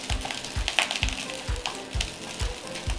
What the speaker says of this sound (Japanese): だからこうフライパンは振らずにヘラで気長にほぐしてやってくださいということなんです